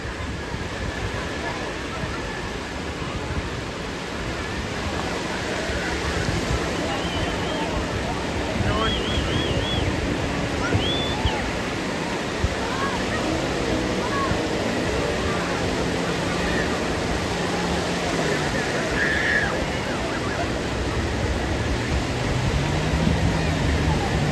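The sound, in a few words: ocean waves at Malpe Beach, Udupi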